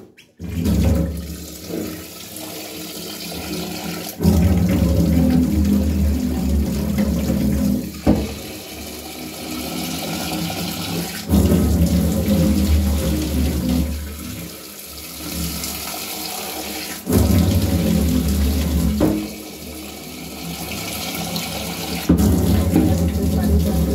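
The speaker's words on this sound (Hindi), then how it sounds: "ठंडा पानी डाल करके" Cold water pours and splashes steadily over boiled bananas in a pot or vessel, a loud running-water rush continuing for over twenty seconds with brief pauses and surges.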